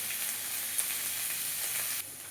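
Salted cauliflower fries in a pan with a steady, bright sizzle and crackle, close and moderately quiet, continuous without a voice.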